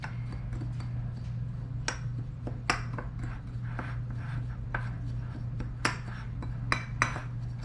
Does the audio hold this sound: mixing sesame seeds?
yes